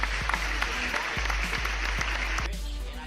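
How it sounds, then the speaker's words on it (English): Everybody clapping, a steady wash of applause with scattered sharper claps, under a low constant hum and fairly loud throughout. "And everybody claps."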